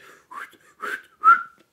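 A voice imitates a referee's whistle from a football match between Valencia and Real Madrid, with three short, rising whistled blasts, each a little louder than the last, set against silence.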